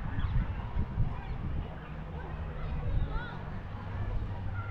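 Ducks and geese honk and quack at a lakeside park with boating, their calls faint and scattered beneath a steady murmur of nearby people talking and general outdoor bustle.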